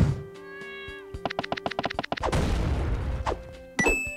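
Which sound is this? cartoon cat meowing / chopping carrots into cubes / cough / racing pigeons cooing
cartoon cat meowing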